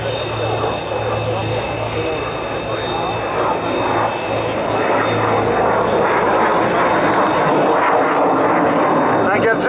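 An Italian military training jet flies at the Le Bourget air show, its engine roaring loud and continuous with a steady whine, while an announcer talks over it.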